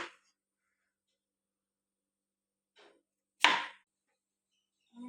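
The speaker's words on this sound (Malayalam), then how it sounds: "കുക്കുംബറിൻ്റെ 2 ഭാഗവും ഒന്ന് അരിയാം." A kitchen knife chops cucumber halves on a board in a few sparse, quiet strikes, the loudest near the middle, with long silent gaps between them.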